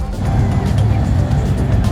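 A car passing at a cars-and-coffee meet, a loud close engine rumble sustained through the moment.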